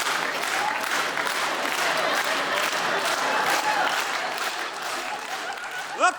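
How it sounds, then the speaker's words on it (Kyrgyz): Steady applause from a concert audience, dense and sustained clapping throughout at a fairly even level, with a brief voice near the end. "Мына кол чабуулар сага кызым,"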